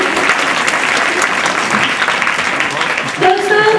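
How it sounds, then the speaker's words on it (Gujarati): Audience applause welcoming a guest at a community gathering, steady dense clapping throughout, loud and close, with a voice speaking briefly near the end. "વિનોદભાઈ પાંજાણી આવી ચૂક્યા છે, તો એમને તાળીઓના ગણગણાટથી વધાવી લઈએ."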